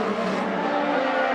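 Formula 1 cars race through the final corner, a continuous high engine whine with slight tire noise, steady and fairly loud, no talking heard in this stretch.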